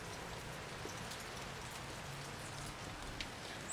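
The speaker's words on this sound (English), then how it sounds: "And it's still raining." Steady rain falls continuously, a dense even hiss with scattered drips, nearby and fairly soft, with no voices.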